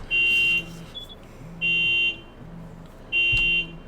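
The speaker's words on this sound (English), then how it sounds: "That's a cell phone." A cell phone buzzes in three evenly spaced, loud bursts of harsh tonal buzzing with short quiet gaps between them. No one speaks over it.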